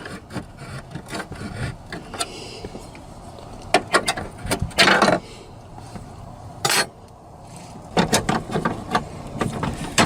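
Seven-millimetre bolts are worked out of a 1997-2004 Ford F-150 dashboard during a heater core replacement. Close, intermittent bursts of ratcheting and scraping are broken by short pauses, with no one talking.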